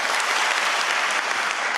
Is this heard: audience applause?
yes